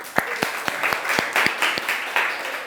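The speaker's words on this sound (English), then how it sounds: "let's give a round of applause" A small classroom group gives a round of applause, roughly a dozen sharp, uneven claps over a few seconds, close and fairly loud.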